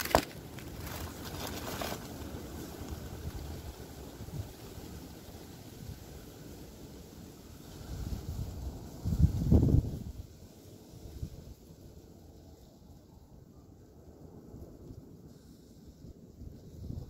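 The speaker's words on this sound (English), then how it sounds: "Oh boy, this wind." Wind gusts outdoors roadside while hitchhiking, buffeting the microphone with a low rumbling rush that swells into a heavier gust midway before easing off.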